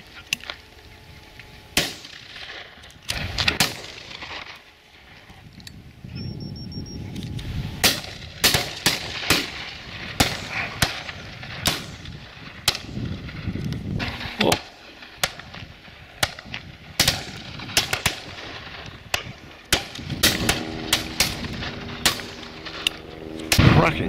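Shotguns fire repeatedly at driven partridge on a club shoot day, with sharp, loud bangs from close guns mixed with fainter distant reports in an irregular, scattered volley that runs throughout.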